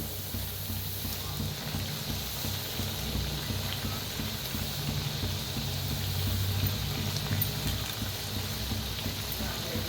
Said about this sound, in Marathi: तर तेवढाच हे तळून घ्यायच्या आता फिरवून घेऊया